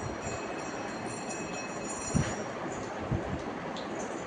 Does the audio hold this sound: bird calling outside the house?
no